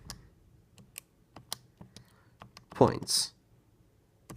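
Plastic keys on a TI-80 series graphing calculator click in a quick, irregular run of light taps, with a brief burst of speech breaking in partway through.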